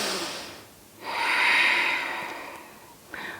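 Slow, deep yoga breathing during a warrior three pose, one long audible inhale followed by a steady airy exhale, close and alone.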